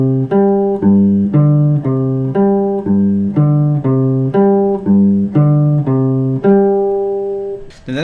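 Guitar plays the intro as a steady quarter-note pattern of repeated chord stabs, clear and close, with one longer held chord near the end and no talk.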